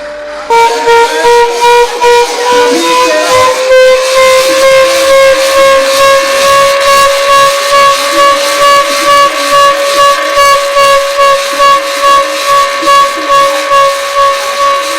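A civil defense siren blares during an air raid mock drill in India, a loud, sustained tone that slowly rises in pitch over a rapid pulsing throb and never lets up.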